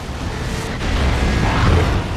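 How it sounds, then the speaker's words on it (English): Heavy D-cannon shots landing in a Warhammer 40,000: Dawn of War 2 3v3 battle, a dense, continuous low rumble of explosions and booms that swells slightly over two seconds, loud and close with no voices. "D-cannon shots going in."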